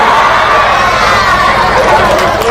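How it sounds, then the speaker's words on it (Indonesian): A crowd at an Islamic sermon claps loudly and continuously, a thick, steady wash of applause that fills the whole stretch without a break. "Mak, tepuk tangan pula itu"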